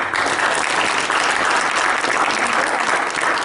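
At a fraternity Founder's Day gathering, an audience claps steadily throughout, a dense and even round of applause with no talking over it.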